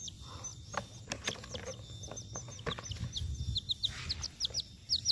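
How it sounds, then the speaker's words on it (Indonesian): Small rainbow-dyed chicks peeping and clucking in quick, irregular bursts nearby, with a high continuous whine and light background noise. "kita akan menangkapnya. Anak ayam Rembo"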